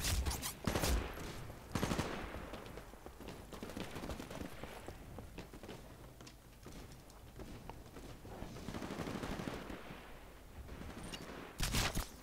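Gunfire in the video game Titanfall, with bursts of rapid shots and scattered single cracks running through the whole stretch, loud and busy, heaviest near the start and end.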